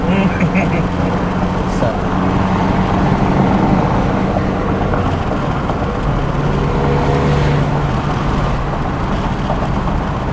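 A tuned car accelerates hard in fifth gear, its engine a steady, loud droning roar that fills the cabin while people talk over it.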